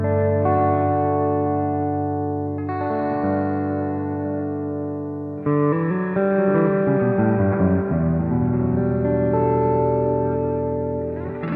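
Sustained guitar chords ring out through a Sonicake Ambience pedal, delay feeding into reverb, swelling into a dense, washy ambient drone with long echoing tails.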